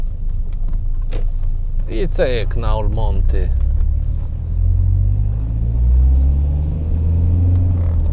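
A Rover 75 2.0 CDT diesel car rolls over potholes, giving a steady low rumble with soft knocks from the suspension. Someone talks briefly near the start.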